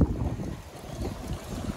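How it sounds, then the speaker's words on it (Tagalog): Steady wind buffets the microphone outdoors at a hilltop pigeon release site, a low rumbling gusty roar with no other distinct sounds and no talking. "Medyo mahangin dito sa lugar"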